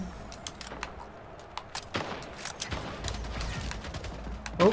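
Gunfire aimed at the player in the arena shooter Splitgate, scattered sharp shots and short bursts of varying loudness over game background noise.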